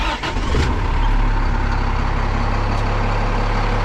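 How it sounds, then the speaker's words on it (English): A truck engine cranks and catches during a daily pre-trip check, then settles into a loud, steady low rumbling idle close by. "and then go ahead and start the engine."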